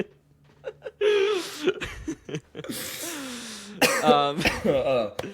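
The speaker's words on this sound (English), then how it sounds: "I will try not to cough all the time" A few short coughs and throat-clearing bursts break up a man's speech, close to the microphone.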